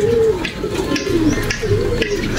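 Racing pigeons arriving in Batanes, cooing close by in repeated soft, throaty calls, with light fluttering and rustling around them.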